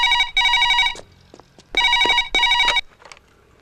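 A telephone rings loudly and close in two pairs of trilling electronic bursts separated by a short gap, with faint shuffling between the rings.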